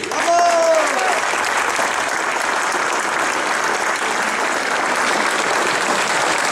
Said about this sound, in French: Ah, on applaudit les pompiers.